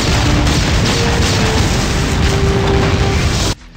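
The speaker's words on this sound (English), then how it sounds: "if you let a building collapse with a huge explosion, you'll certainly be on the edge of your seat" Loud, sustained rumbling blast from a huge in-game explosion as a building collapses in Red Faction: Guerrilla, a dense roar lasting about three and a half seconds before cutting off abruptly.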